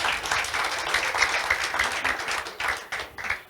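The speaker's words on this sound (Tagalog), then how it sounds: "Pumalakpak nga po tayo" A church audience claps together at a talk about Pentecost, a short burst of fairly loud, uneven hand clapping from a small crowd that thins toward the end.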